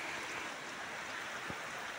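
Rainwater rushing through a village after a cloudburst, a steady broadband wash of flowing water with no pauses, moderately loud and even throughout.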